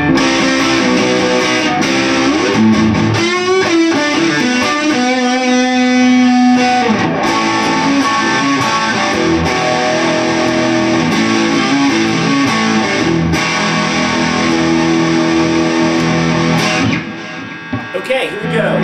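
An electric guitar through an amplifier plays a string of chords and single-note runs with a crunchy, mildly overdriven tone, steady and fairly loud. The guitar is a Fender Prodigy.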